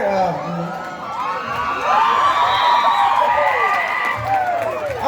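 An audience at a Bhogali Bihu comedy stage show sends up a sustained, loud crowd roar of cheering, whoops and shouting voices, with little distinct clapping.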